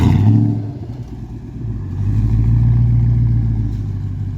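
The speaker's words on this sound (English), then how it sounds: "3-inch exhaust, straight piped." A Toyota Sequoia's 4.7-liter V8 with a 3-inch straight-piped exhaust revs hard, a loud deep rumble that swells and holds steady, close by, with no talking over it.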